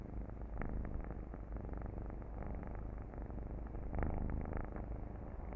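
Cats purring close up, a steady rumbling throb with soft rhythmic pulses and a slightly stronger swell partway through, no voices.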